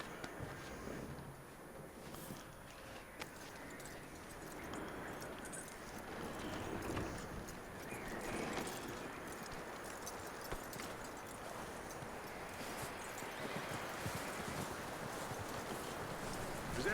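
A horse's hooves clip-clop steadily in Red Dead Redemption 2, soft and fairly distant under a constant wash of wind and outdoor noise, with no talking.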